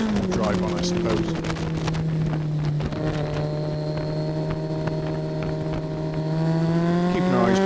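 A Kawasaki GTR1400 motorcycle engine drones steadily on track at Oulton Park, a loud sustained tone rising slightly in pitch under heavy wind noise, with a rider talking over it.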